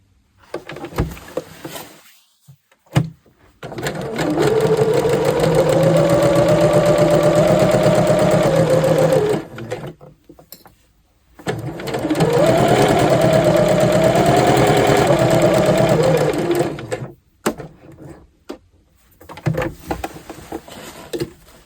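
A sewing machine stitching fabric in two sustained runs of steady, close mechanical whirring, each lasting several seconds, with brief handling clicks and quiet pauses between them and no talking.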